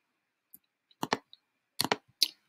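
A computer mouse clicks in several quick pairs and single taps, crisp and close in an otherwise quiet room, with short gaps between bursts.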